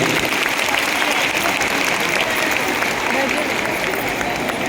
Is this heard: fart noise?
no